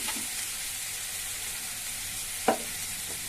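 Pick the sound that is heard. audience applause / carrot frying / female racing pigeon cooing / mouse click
carrot frying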